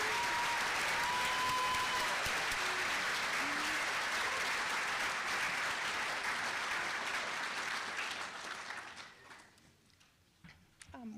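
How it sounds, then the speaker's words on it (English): Applause from the audience at a nursing white coat ceremony, a long sustained burst of many hands clapping that holds steady, then thins and fades out near the end as the room quiets. "one more round of applause and congratulations for this exciting class"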